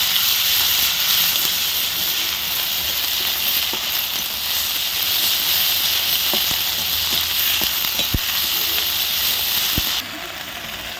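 Onion with ginger, garlic, cumin and dried chili paste frying in a village kitchen, a loud steady hiss and sizzle throughout with occasional stirring clicks, easing slightly at the end, with a voice speaking over it.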